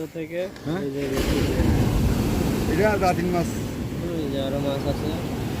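Rough sea waves wash around a small fishing boat off the coast, a constant roaring rush of water and wind, with people talking over it throughout.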